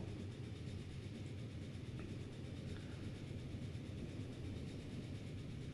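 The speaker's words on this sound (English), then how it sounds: "So now this train is really picking up the pace" A train in the video game Transport Fever picks up speed with a steady, dense rumble and rolling rail noise that holds constant, with no voices.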